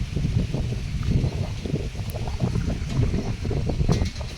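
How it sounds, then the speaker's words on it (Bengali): Gusty wind buffeting outdoors on a cloudy, drizzly day, a rough low rumble with fluctuating force and faint rustling throughout. "আরে দেখো হাওয়া দিচ্ছে কিরকম"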